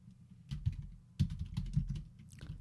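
Computer keyboard keys clack in short, quick bursts of typing at close range, soft and uneven, entering commands on a router setup, without talking.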